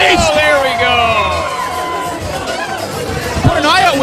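A crowd at an event chatters and cheers loudly and steadily, voices overlapping in a dense babble with whoops rising near the end.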